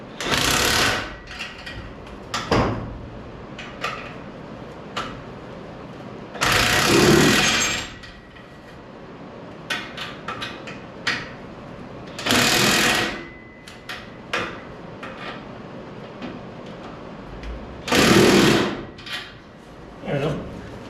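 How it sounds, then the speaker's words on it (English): A power tool whirs loudly in several short bursts while working on a vehicle exhaust, separated by quieter stretches of clanking and handling noises. "Oh, power tools, love it."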